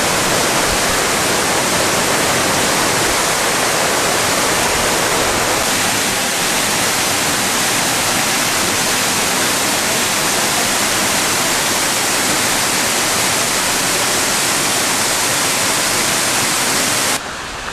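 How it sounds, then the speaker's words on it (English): Avalanche Falls in Flume Gorge, Franconia Notch, New Hampshire, roars as a loud, dense, unbroken rush of falling water from nearby, with no voices over it. "behind me you'll see Avalanche Falls, and there are many people just standing behind me on the stairs here, getting wet and just marveling at the falls itself"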